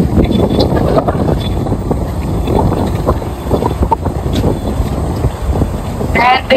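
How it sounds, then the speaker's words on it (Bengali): Strong wind gusting outdoors on a Maldives island street in Maafushi, a loud, steady buffeting rush across the microphone throughout, with faint voices in the background. "এখন অনেক জোরে বাতাস"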